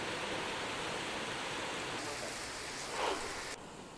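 Heavy monsoon rain with the Dhong minor dam at Navapur, Nandurbar overflowing produces a dense, steady roar of falling water, loud and unbroken, with a brief swell near the end.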